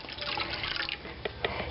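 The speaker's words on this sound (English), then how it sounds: "I'm going to pour in the rest." Liquid pours and trickles into a pan, a soft continuous splashing with a few brief drips near the end, fairly quiet and close.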